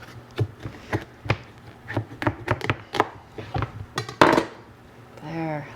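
A knife chops through a raw sweet meat squash in a series of sharp, close thuds and crunchy cuts, irregular and fairly loud, ending in a short spoken remark.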